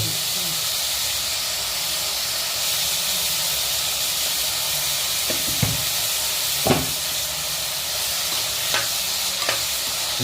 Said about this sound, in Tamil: வெங்காயம் வதங்குறாங்க